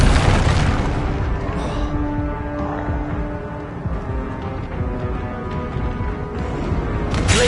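Fiery Confringo spell blasts in the Hogwarts Legacy video game, a dense, continuous roar of booming explosions and crackling magic that stays loud throughout.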